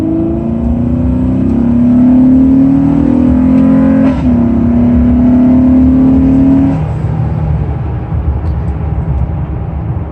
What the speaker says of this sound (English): So we'll just get on the gas here and I'll show you what it actually sounds like.